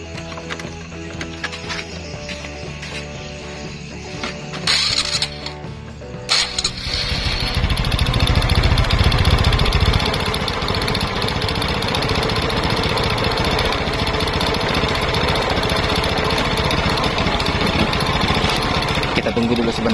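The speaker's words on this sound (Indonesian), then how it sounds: "Oke, coba kita akan tes bunyi atau nyalakan dulu motornya." A Honda Supra X 125 carbureted motorcycle with a fuel-flooding fault has its engine started and idling close by: a loud, steady mechanical chug that fills the clip after a brief start, with talk over the earlier part.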